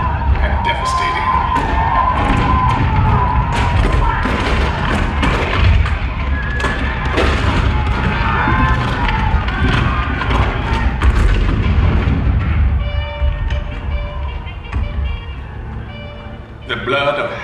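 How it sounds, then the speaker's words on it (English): Booming cannon fire from a Hall of Presidents show scene depicting the Civil War's opening at Fort Sumter, heavy thuds rolling under a dense, loud mix of orchestral score and narration. "The cannon spoke for war, bitter, violent, and devastating."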